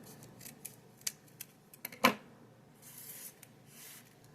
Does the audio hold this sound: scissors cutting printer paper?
yes